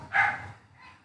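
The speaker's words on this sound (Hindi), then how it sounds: "कुत्ता भौंक रहा है" A single dog bark, faint and somewhat distant, followed by a softer trailing yelp.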